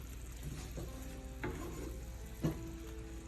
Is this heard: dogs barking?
no